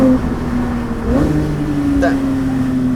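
A Porsche GT3 with a straight-pipe exhaust rumbles steadily with a couple of brief revs, a low exhaust drone under the whole stretch.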